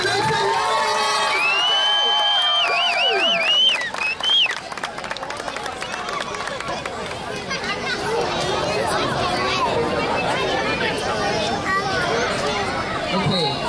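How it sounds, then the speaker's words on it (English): Audience at a Halloween dance competition cheering and clapping for contestants, with high shrieks and whoops early, a brief dip, then sustained crowd noise with chatter and children's voices mixed in. "Give them a round of applause,"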